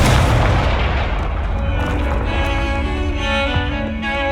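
Loud booming fire-spell explosions in Hogwarts Legacy, with a heavy rumbling blast at the start followed by sustained dense crackling and ringing tones that persist to the end, no voices heard.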